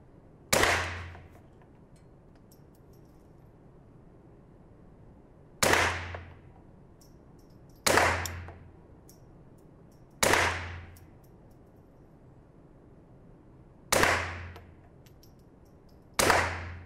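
Single foam darts from an X-Shot toy blaster striking an electronic targeting system, each hit a sharp plastic clack with a short ringing tail, arriving one at a time at irregular intervals of a few seconds, close and alone.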